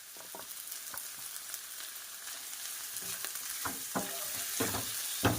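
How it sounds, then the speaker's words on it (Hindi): Sabudana cooks in a pan with ground peanuts added, giving a faint, steady sizzle with scattered scraping clicks from stirring that grow a little busier and louder toward the end. "ये पक रहे हैं, इसके साथ ही मैंने अपने जो ये पीनट्स मैंने पीसे थे ये डाल दिए"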